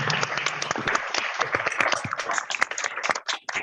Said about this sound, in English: Wow, a round of applause.